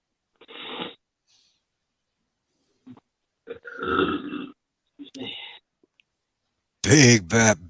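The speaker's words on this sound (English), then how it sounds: "Big burp." After a few quiet grunts and mouth sounds, one big, loud, resonant burp erupts near the end, a long guttural belch standing alone.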